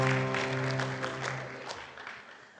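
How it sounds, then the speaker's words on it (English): Applause for a call process committee at a congregational gathering, fairly quiet and fading over a couple of seconds, with a sustained musical tone underneath. "So I really want to give them a round of applause."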